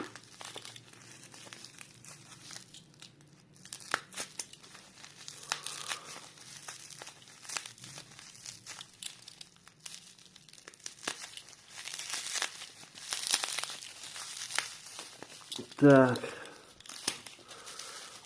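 Crinkling and tearing of a package holding Soviet-era tableware, with a sharp burst of ripping tape near the end, mixed with occasional speech nearby.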